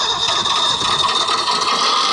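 An Axial XR10 RC rock crawler's sound card plays simulated Jeep engine noise after a stall, a steady buzzing, rattling idle with a whining tone, close and continuous throughout.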